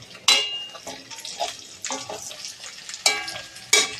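Potatoes tipped into a frying pan of hot oil with black cumin and chopped onion, giving a few sharp sizzling bursts and scraping stirs at close range, with quieter crackling between them.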